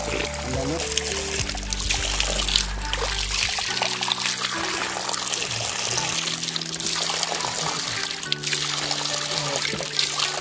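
Mountain spring water from a hill stream trickles and pours close by, with splashing and gurgling over a bright continuous flow, while people talk intermittently over it.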